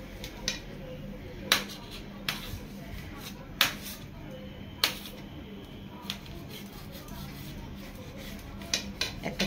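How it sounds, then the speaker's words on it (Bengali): A knife cuts pressure-cooker-boiled banana flower into pieces on a board, giving a series of crisp, separate taps and chops at an uneven pace over a steady low background. "একটা ছুরি দিয়ে এভাবে টুকরো টুকরো করে নেবেন।"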